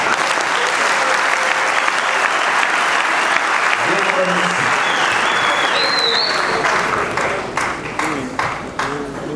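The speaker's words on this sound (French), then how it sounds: "dans des applaudissements frénétiques accueillir ceux qui viennent aujourd'hui vous parler" A crowd of students bursts into vigorous, sustained applause to welcome speakers at a university gathering, loud continuous clapping with some chirps and voices mixed in, thinning slightly toward the end.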